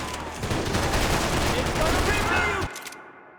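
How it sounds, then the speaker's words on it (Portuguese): Sustained gunfire from the video game Max Payne 3, a dense, loud fusillade of rapid shots and bursts rattling for nearly three seconds before cutting off abruptly, with a voice speaking over it. "Quem tá me atirando?"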